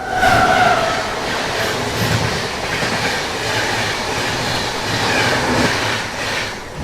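Riding aboard the Sampark Kranti Express in Uttar Pradesh, a steady loud rumble of wheels and carriages fills the air, with a brief rush and faint squeal as another train crosses alongside.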